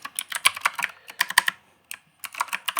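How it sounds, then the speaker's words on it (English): Fast typing on a computer keyboard, close, crisp key clicks in quick bursts with a short pause in the middle. "If I can type today,"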